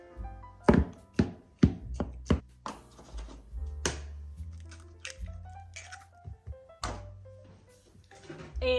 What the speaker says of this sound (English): I forgot to cut up my apples.